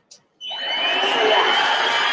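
A handheld car vacuum cleaner starts after a brief click and runs steadily, a close, loud whirring whine that builds slightly and holds, with no voices over it.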